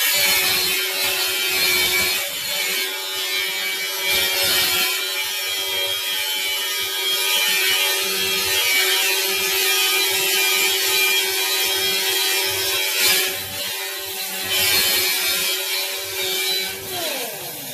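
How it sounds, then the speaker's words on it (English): A handheld pneumatic air grinder runs continuously at close range, a steady high-pitched whine with grinding rasp against metal that holds level throughout, with no talking. "then turn it right on, got a hold of it, and then we're just going to grind"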